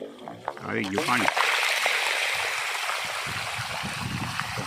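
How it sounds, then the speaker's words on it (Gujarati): A motor pump sends water gushing into a farm field, a continuous close rushing flow that begins after a brief moment of voices. "આવી ગયું પાણી"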